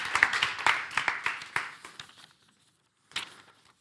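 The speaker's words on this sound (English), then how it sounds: "Let's give Max a warm round of applause." Small audience at a hybrid B2B marketing event clapping for a speaker: a sparse run of distinct, close hand claps that tapers off, a brief silence, then one last short burst.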